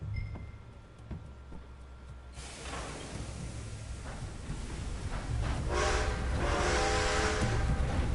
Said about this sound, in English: Hooray, I get to drive a train.